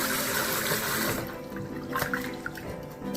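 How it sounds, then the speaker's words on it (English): Tap water runs steadily as rice is rinsed in a kitchen, a loud continuous gush that drops away midway into softer splashing and sloshing. "And for the rice, I'm just going to give it a quick rinse."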